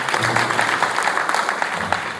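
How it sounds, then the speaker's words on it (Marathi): Audience clapping at a live bhajan devotional singing performance, a dense patter of many hands applauding loudly and steadily throughout, close and continuous. "खरं एकदम जोरदार टाळ्या होते"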